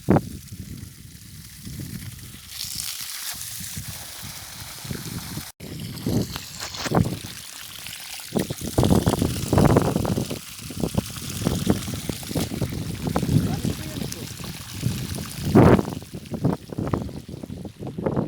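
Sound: water pouring from pump hose

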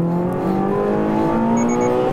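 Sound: HKS-tuned Toyota GR86 accelerating on a racing circuit

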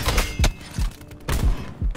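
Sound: gunfire from the video game Black Ops 4

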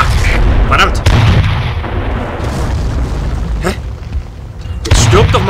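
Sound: tank cannon fire in video game GMA Tank Commander

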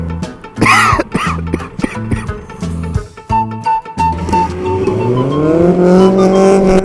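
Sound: Bugatti car engine revving

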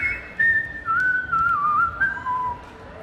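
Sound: human whistling

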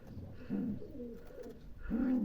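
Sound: cooing Chinese Owl (Chinese gull) pigeon chicks

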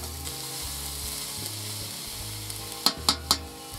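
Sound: vegetables frying in oil

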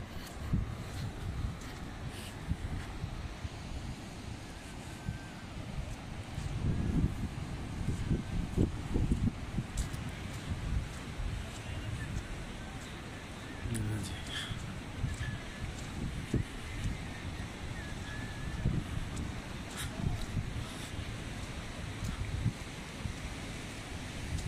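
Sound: flowing river water in Kumrat Valley

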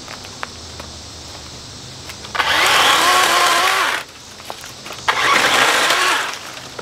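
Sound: DeWalt battery electric chainsaw running

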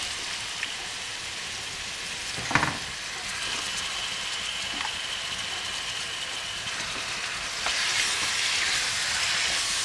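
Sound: pork spine (suã) sautéing with garlic in a pan

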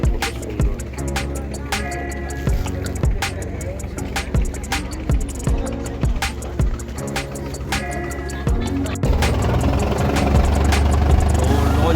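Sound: loud engine of a passenger launch boat departing, Sundarbans

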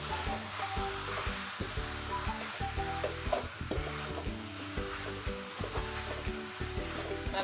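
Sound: spice masala frying and being mixed in a pan on high heat

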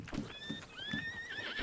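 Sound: horse neighing in video game Red Dead Redemption

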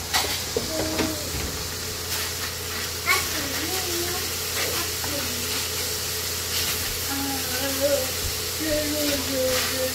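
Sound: cilantro and garlic sautéing in lard

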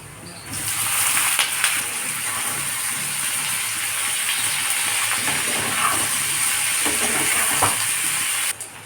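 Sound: raw green bananas frying with browned onions

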